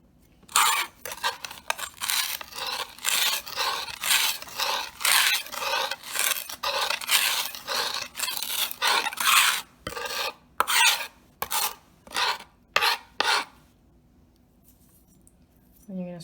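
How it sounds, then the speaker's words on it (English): A flat knife blade mashes garlic against a cutting board in repeated rasping back-and-forth scrapes, close and crisp, in a steady rhythm that stops near the end, with a voice speaking over it. "you're gonna run the knife back and forth, like completely flat against the board"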